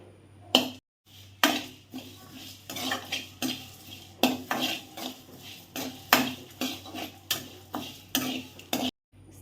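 Garlic and a little curry leaf dry-roasting in a pan with no oil, stirred in a steady run of short scraping strokes against the metal, with brief pauses between strokes and no talking.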